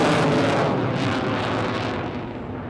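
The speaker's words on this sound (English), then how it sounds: "Takes the aircraft up into the vertical." Continuous roaring jet engine of an RAF Typhoon FGR4 pulling into a vertical climb at a Blackpool air show, heard as a loud, broad rumble that slowly fades as the aircraft moves away.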